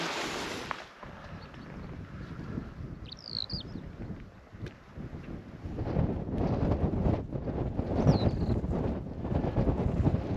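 Wind gusts across the microphone in the Snowdonia hills on a July backpacking trip, rising and falling in a rough rumble, with a couple of brief bird chirps in the distance.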